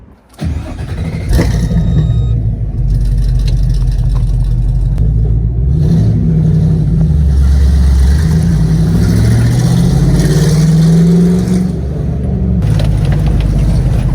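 A Chevrolet Blazer starts up and pulls away, a brief key jangle and cranking followed by a steady, close engine rumble that rises and falls as it revs and accelerates.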